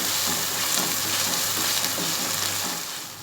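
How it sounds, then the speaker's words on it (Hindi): Onions and spices frying in ghee for beef paya, a steady loud broadband sizzle with faint rhythmic stirring scrapes, continuous throughout and no voices. "प्याज में अच्छी तरह भूनेंगे। अच्छी तरह भूनेंगे कि इन तमाम मसालों का भी कच्चापन दूर हो जाए और घी ऊपर आ जाए।"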